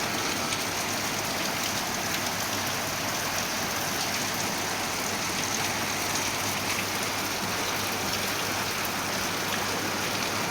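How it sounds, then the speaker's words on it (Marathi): Steady drizzling monsoon rain falls around a sugar factory area, an even, unbroken hiss at moderate loudness with no voices or other sounds. "अगदी सुंदर असा पाऊस चालू झालेला आहे"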